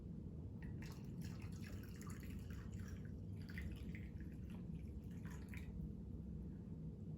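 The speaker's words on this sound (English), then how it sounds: "When we add more water," Water is poured into a glass of salt water holding an egg, a faint, close trickle with small splashing and dripping bursts over a low steady hum, with no talking.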